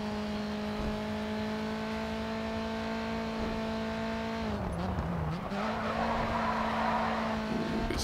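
A touring car in the racing game Grid 2 drones steadily at high revs, then its tires skid and squeal briefly as the engine pitch dips before recovering and pulling away.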